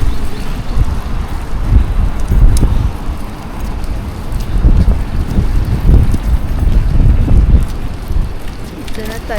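Outdoor wind buffets the microphone in gusting waves, a low rumbling roar that swells and eases in the cold air of Ueno Zoo in Tokyo.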